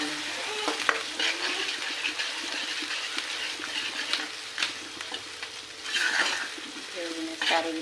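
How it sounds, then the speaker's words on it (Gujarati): Boiled chickpea curry being stirred in a pan, with a soft steady sizzle and irregular scraping and clinking of a spoon against the metal, close and moderately loud, with no talking. "સારી રીતે મિક્સ કરી"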